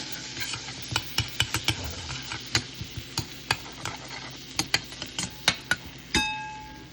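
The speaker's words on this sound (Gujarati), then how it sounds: "બટર મેલ્ટ થાય મીડિયમ આંચ પર રાખવાનો." Butter heating in a pan on medium heat while being stirred, with a steady faint sizzle under a run of sharp utensil clicks and taps against the pan, close by.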